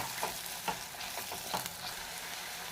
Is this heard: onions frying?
yes